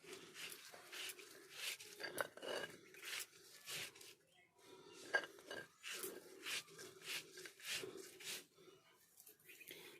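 Chopped onion is worked by hand into a mixture for khude bori. Soft, quiet rubbing and squishing come in steady, repeated bursts close by, with occasional light knocks against a dish.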